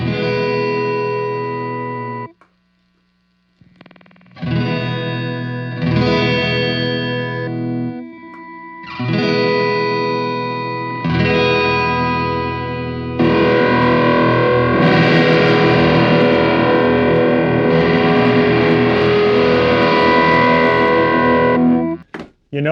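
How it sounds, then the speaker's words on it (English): Vintage Boss DD-2 digital delay pedal driven by distortion, producing sustained distorted guitar chords with delay repeats, played loud in several phrases separated by brief gaps, then a long swelling section. "Let's see if the DD2 does something similar."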